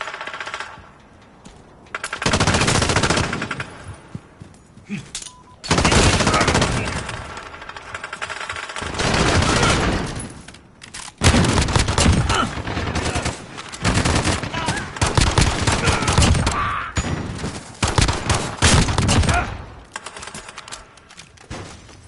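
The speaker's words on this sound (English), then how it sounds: "They also increased the fire rate of the M19, I feel like, because, look. It does feel like it has a much faster fire rate." Rapid bursts of M19 pistol fire in Call of Duty: Modern Warfare, a fast-firing handgun whose shots come in dense clusters separated by short pauses, loud and close.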